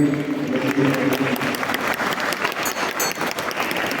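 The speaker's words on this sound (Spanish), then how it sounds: "Un aplauso a estos hermanos." A group applauds with brisk, continuous clapping. It is fairly loud and close, with a few voices underneath at the start.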